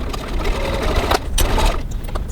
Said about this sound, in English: now I'm going to stitch using a 6mm 1/4 of an inch seam